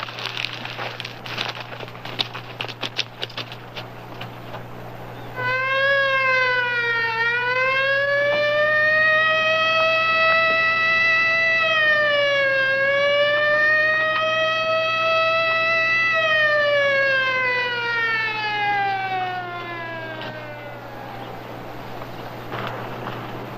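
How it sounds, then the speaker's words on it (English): A loud siren wails for about fifteen seconds, its tone rising, holding, dipping and climbing again before winding down, heard alone over faint background hum. "He wants us to hit the siren."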